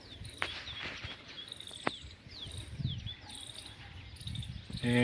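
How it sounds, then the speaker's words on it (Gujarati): Several bird calls and chirps ring out over a castor field at morning, over a steady insect chorus, with occasional short sharp clicks close by. "એક બાજુ પક્ષીઓનો અવાજ આવે,"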